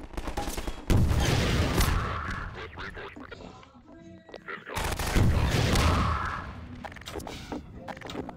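Bursts of loud gunfire in Half-Life 2 erupt in two heavy volleys, with rattling shots and explosions between them.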